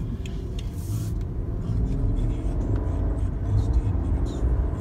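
Rolls-Royce Ghost accelerating, a smooth low rumble building steadily from inside the cabin, fairly quiet and muffled, with faint talk over it.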